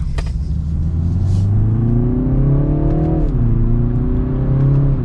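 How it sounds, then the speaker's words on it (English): A 2023 BMW 330i accelerates hard in second gear, its engine note rising steadily with a brief dip at a shift-like moment before climbing again, loud and close from inside the car. "And we'll give it one last acceleration for today's video. We'll go to second gear."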